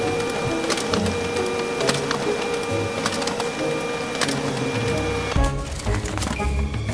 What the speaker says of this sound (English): let's go to the printer and print out all these shapes